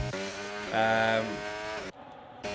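A McLaren race car in a racing video game revs hard through a corner exit, its engine note climbing and shifting through gears, loud and close, cutting out briefly before resuming.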